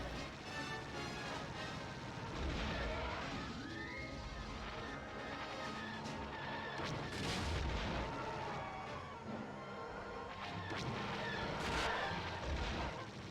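Blasters fire rapidly in the Star Wars Rogue Squadron II space combat game, a dense, loud barrage of repeated shots and booming impacts that continues throughout without pause.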